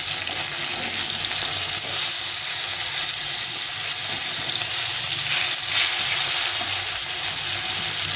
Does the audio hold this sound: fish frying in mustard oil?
yes